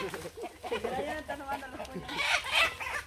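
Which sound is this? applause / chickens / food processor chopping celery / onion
chickens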